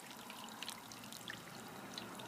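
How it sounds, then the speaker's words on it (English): Excess oil drains from pan-fried noodles lifted out of a wok, a steady soft trickle and patter of dripping oil falling back into the pan, continuous and fairly quiet. "Let all that excess oil out,"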